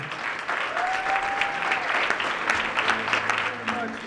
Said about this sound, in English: help me greet and applaud our Lifetime Achievement Award recipient, Dr. Rodolfo Acuna.